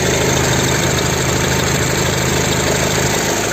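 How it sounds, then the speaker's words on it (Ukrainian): A VW Touran 2.0 TDI diesel engine idles steadily and loudly, a constant low rumble with a rattling knock and no voices. "Газів немає, двигун працює ідеально."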